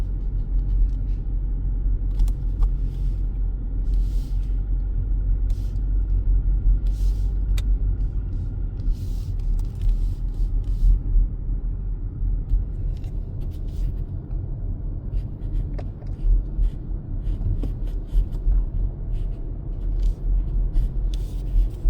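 A car driving up a twisty residential street, with a continuous low engine and road rumble heard from inside and faint clicks and rattles over it, and no talk.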